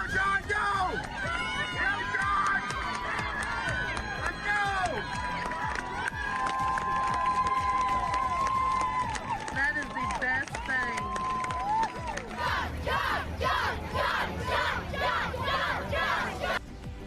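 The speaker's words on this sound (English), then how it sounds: "What a run, with players from both teams cheering him on there" Crowd and players cheering and shouting during a long 85-yard touchdown run in a football game, loud and continuous, with excited voices and rhythmic claps near the end.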